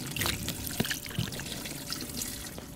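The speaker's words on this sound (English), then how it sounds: "Let me pour some water on you." Water poured out in a toy play scene with Monster Jam fire trucks, a continuous close trickling and splashing stream with a few small spattering bursts, heard alone without speech.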